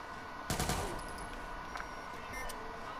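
Gunfire in the Watch Dogs 2 video game: a short, loud burst of shots about half a second in, then a steady backdrop of game noise with a few faint sharp ticks.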